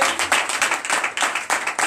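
Close, loud rhythmic clapping from a congregation at a Sunday worship service in Benin, regular beats about four per second with no speech over them.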